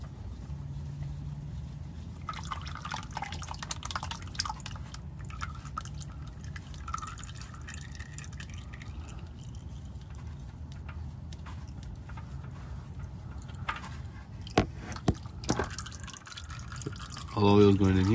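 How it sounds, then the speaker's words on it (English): Motor oil drains from a Honda Pilot into an oil pan beneath it, a steady trickling and dripping of liquid heard close by with faint background noise and a few knocks near the end. "All the oil is going in here."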